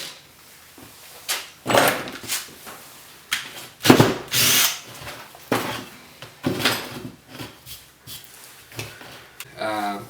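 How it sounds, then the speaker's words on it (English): A Ryobi One+ cordless drill with an 8–9 mm bit bores into material in repeated bursts, each whining run-up and grinding cut separated by brief pauses, close and loud, with a short rattle near the end. "I've got about a 8mm, 9mm drill here."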